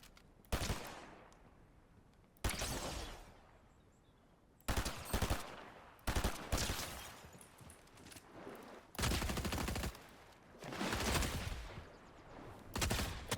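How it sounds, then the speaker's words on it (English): Repeated bursts of automatic gunfire in Fortnite Zero Build endgame, loud close volleys recurring every couple of seconds across the clip with no talking. "Is somebody shooting at me? I mean, I know somebody's shooting at me."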